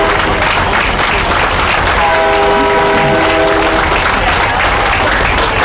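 A train rolls through during a street parade, its horn sounding a sustained chord for a couple of seconds over a loud, continuous crowd roar and rumble.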